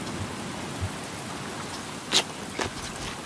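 Rain falling in the Stranded Deep island survival game: a continuous soft patter of drops with a few sharper crackling splashes standing out near the end, moderately loud and without any voices.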